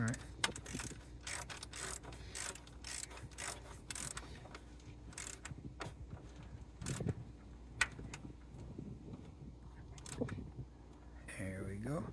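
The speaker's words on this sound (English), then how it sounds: "I was tightening that one more bolt." A ratchet tightening a bolt on a Jeep Commander water pump gives rapid clicking bursts that come and go with brief gaps, close up, with some faint background sound near the end.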